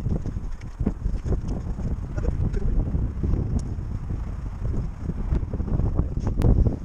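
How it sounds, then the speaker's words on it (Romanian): Strong wind gusting across a rooftop of an abandoned building in Bucharest, loud continuous rumbling buffeting against the microphone with no voices. "bate vântul tare rău aici"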